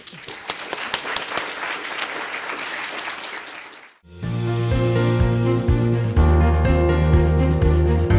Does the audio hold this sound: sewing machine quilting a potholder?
no